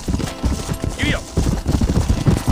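Horse galloping in the Western video game Red Dead Redemption, rapid hoofbeats thudding steadily through the clip over a busy mixed game soundscape with a brief sharp chirp partway through.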